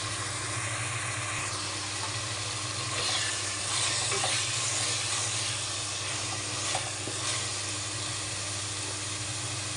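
Curry leaves and coriander sizzle in a frying pan with cooked tomato, a steady close hiss of frying that holds through the clip with slight swells and no talk.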